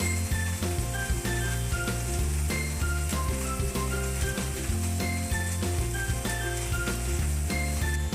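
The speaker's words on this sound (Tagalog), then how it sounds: "Ngayon na po, binisa ko na po sa bawang at sibuyas." Garlic and onion sautéing in a pan, a steady loud sizzle of frying with occasional light clinks of a utensil stirring, continuous and close throughout with no talking.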